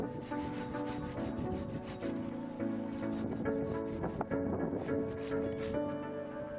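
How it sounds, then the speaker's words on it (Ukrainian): Rhythmic rasping strokes of an ARS TL-24 Japanese pruning saw with a 24 cm blade cutting through a branch, steady back-and-forth under faint tonal background hum. "Зараз ви можете бачити, як ця пила обрізає гілку."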